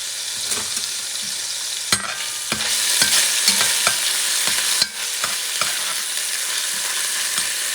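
Haitian épis seasoning with tomato paste and parsley fries in a pot over medium-high heat, a loud steady sizzle punctuated by several clacking stirs of a spoon against the pot, with no talking.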